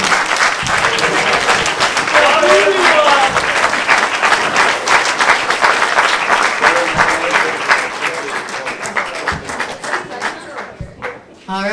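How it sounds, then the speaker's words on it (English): Loud, sustained clapping fills the room as wedding reception guests applaud after a toast, dense and continuous for most of the stretch before thinning out near the end, with cheers and voices mixed in. "let's give a round of applause to Peyton."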